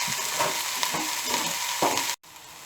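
Onions frying in a pan with ginger, garlic and green chili, a steady close sizzle broken by a few soft stirring scrapes, then a brief drop to quiet before the sizzle resumes.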